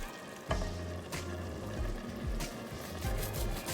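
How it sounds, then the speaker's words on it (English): Ground beef frying in a pan for shepherd's pie, a soft steady sizzle with occasional scraping and stirring knocks, quiet and close, with no talk. "Now while this ground beef is cooking"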